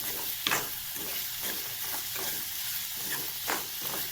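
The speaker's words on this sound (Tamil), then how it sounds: "இப்போ பாருங்கள், ஆனியன் ஓரளவுக்கு லைட்டாக கொஞ்சம் வதங்க ஆரம்பிச்சிருக்கு." Onions sauté in a pan for a potato-stuffed dosa roll filling, giving a continuous close sizzle broken by the scrape and clatter of stirring, with no speech.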